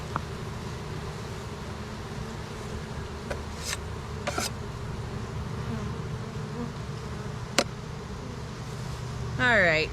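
Honey bees buzz steadily around a hive full of nectar, a dense continuous hum close by with a few brief sharper sounds and a rustle at the end, no talking.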